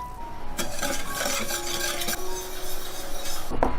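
Sugar stirred into hot water to dissolve it, a close run of spoon-on-bowl scraping and swishing with a sharp clink near the end, fairly loud, no talking.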